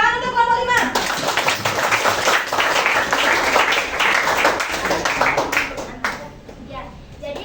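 A classroom of students bursts into clapping for a presentation group, a dense, lively round of applause that runs several seconds before thinning out, with children's voices and chatter mixed in.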